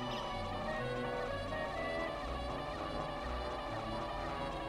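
A steady buzzing drone in Banjo-Tooie while playing as the bee, continuous and even throughout, set against layered game music.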